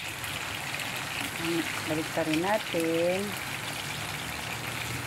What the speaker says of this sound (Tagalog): Ang lakas ng ulan na naman